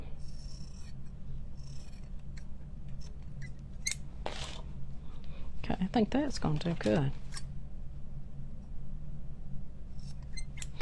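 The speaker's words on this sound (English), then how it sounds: "Using my sewing scissors." Sewing scissors snip through flannel fabric in a quick burst of several crisp cuts, close by, with a brief spoken remark and quiet room noise around them.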